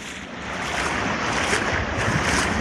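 Knee-deep floodwater overflowing through the neighborhood streets of Barrio Giovinazzo makes a steady, loud rushing wash mixed with wind buffeting the microphone, continuous and without voices.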